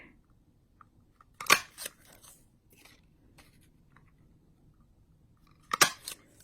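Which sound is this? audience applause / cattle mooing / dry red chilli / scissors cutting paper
scissors cutting paper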